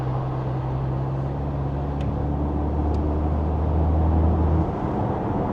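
A Mercedes-Benz SL43 AMG cruising on the autobahn fills the cabin with a steady, low engine and exhaust drone, easing off slightly near the end.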